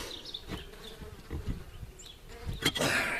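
Honeybees buzz in a steady drone around an open top bar hive during an inspection, close and fairly faint, with some handling bumps and a louder rustle near the end.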